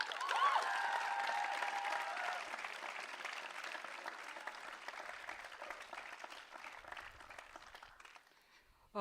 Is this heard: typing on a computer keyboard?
no